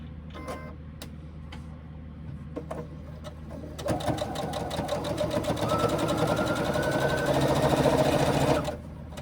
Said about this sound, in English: I'm going to actually baste that top of the pocket and baste my label onto it at the same time.